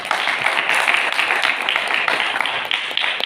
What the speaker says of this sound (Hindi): तो उन्होंने जिस शख्सियत का नाम लिया वो मैं आपकी और अपनी भरपूर तालियों में बताता चलूँ, सर रेहान अल्लाह वाला साहब।